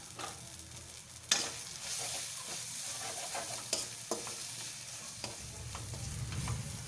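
Tilapia frying in oil with chilli, turmeric and cumin powder makes a soft, steady sizzle, broken by a sudden louder surge and repeated light stirring knocks against the pan.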